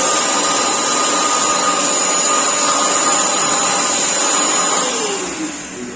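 A Karcher vacuum cleaner fitted with a new turbine motor runs on a test bench with a loud, steady high-pitched whine and roar, close up, easing off slightly near the end.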